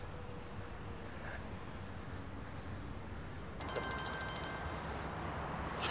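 A telephone rings in a TV drama scene, a steady electronic trill starting partway through and repeating at moderate level over a faint room hum, with no talking.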